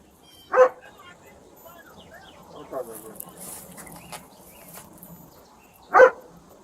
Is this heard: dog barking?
yes